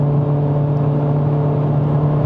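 From inside the cabin, a Mercedes-Benz W205 C180 AMG Line with its 9G gearbox pulls hard in one gear at part throttle, its engine giving a loud, steady drone and hum that holds at a constant pitch with no gear change and no voices.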